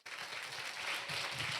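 A Korean church youth-service crowd bursts into applause to welcome a pastor. Quick, dense clapping from many hands starts abruptly and stays loud and even for the whole short stretch.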